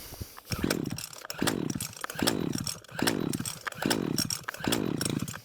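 A Husqvarna 123HD60 hedge trimmer that has not run for a while and is failing to start is pull-started on choke. Five rhythmic, close recoil-and-crank bursts come about a second apart, with the two-stroke engine catching briefly.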